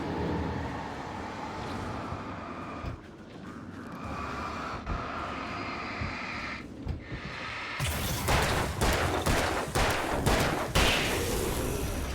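Close-range gunshots ring out in the video game Alan Wake: scattered sharp shots over a steady background din, then a denser, louder burst of rapid fire near the end.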